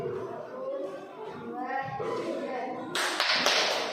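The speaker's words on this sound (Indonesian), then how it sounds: "Tepuk P5 dipimpin oleh Reza" Voices of a group talking give way to a few sharp, loud hand claps near the end as the group starts the 'Tepuk P5' clapping chant led by Reza.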